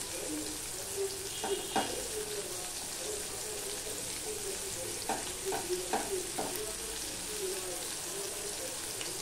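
Sliced onion frying in hot oil in a pan, a steady close sizzle with a few bursts of crackling spatter and light clinks of a spatula.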